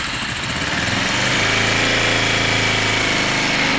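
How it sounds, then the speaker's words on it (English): A Kawasaki ZL600 motorcycle engine runs steadily at idle, a continuous close, loud drone with a low rumble that holds even throughout, no voices over it. "I'm gonna have this bike running because I don't want to wreck his battery."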